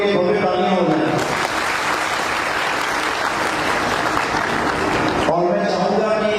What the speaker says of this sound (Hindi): एक बार इन दोनों के लिए भव्य तालियां हो जाए।